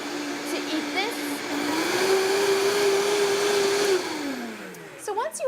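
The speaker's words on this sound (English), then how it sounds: "So we're going to keep turning the speed up so that it blends accordingly." A blender whirs loudly up close while blending cashew milk, its steady motor tone stepping up in pitch as the speed increases, holding there, then winding down, with brief clatter at the end.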